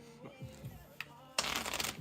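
A deck of playing cards is riffle-shuffled for a card magic trick at a home hangout, a short, close, crisp burst of flicking cards near the end after a faint voice and quiet handling.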